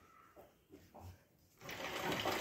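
A sewing machine stitches a gota border onto a saree, starting with a few faint stop-start stitches and then whirring louder and continuously at close range.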